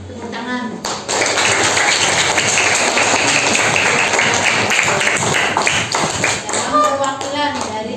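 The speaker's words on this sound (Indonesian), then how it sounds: "Tepuk tangan" Applause at a teacher professional program opening ceremony in Indonesia, a sudden burst of steady clapping from a crowd that sustains loudly for several seconds, with voices mixed in near the end.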